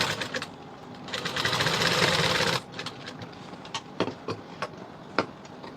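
A sewing machine stitching a 36-inch high neck blouse whirs in a brief, loud burst of about two seconds, followed by scattered light clicks and fabric handling.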